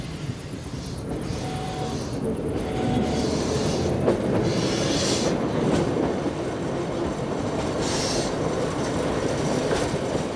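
Small yellow train on the Ligne de Cerdagne in the Pyrenees rolling steadily along the track, with continuous rumbling wheels, rhythmic clacking and occasional faint squeals, heard at moderate distance without talk.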